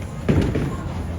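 At a bowling tournament final, a ball crashes into the pins with a single loud, close impact and a short clatter that fades quickly.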